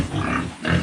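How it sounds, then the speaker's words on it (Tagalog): Farm pigs on a rural Philippine smallholding grunt in short, loud, close bursts, with a brief pause between grunts and no talking. "Ito ang mga baboy natin guys."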